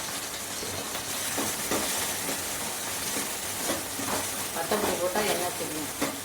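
Chilli powder fries in oil while it is stirred, a dense, loud sizzle with soft scraping strokes that continues throughout.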